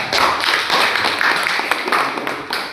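Students in a classroom clap for a classmate, a steady patter of many hands close by that keeps going without a break.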